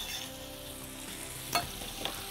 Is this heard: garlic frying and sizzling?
yes